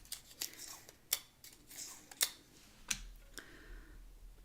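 Scissors snipping out the window opening of a paper die cut, a handful of short crisp cuts spaced irregularly, close and fairly quiet with no talking.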